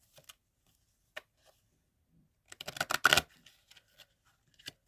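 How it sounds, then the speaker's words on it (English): A few light taps, then a quick burst of tarot cards riffling and shuffling close up, followed by scattered soft clicks. "These cards shuffle weird. I'm just going to shuffle them like this."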